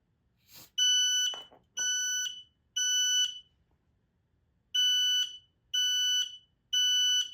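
An X-Sense SC07-W Link+ smoke and CO alarm sounds during a spray smoke test, giving six loud, shrill electronic beeps in two groups of three with short gaps, preceded by a brief spray hiss.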